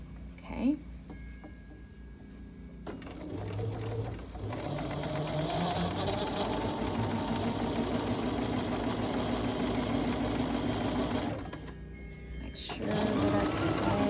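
A sewing machine stitches a quilt block in a long, steady mechanical whir lasting several seconds, close and even, with short pauses and faint handling noise at either end.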